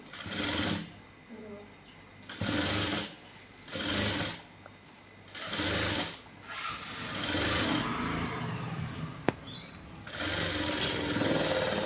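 A sewing machine stitches a blouse in repeated loud mechanical runs of about a second each, with short pauses between them. Near the end the stitching goes on longer and more steadily, with a small clatter, and no words are spoken.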